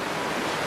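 Sea waves wash in a steady, broad rush of surf with no breaks, even and full, filling the whole moment without voices.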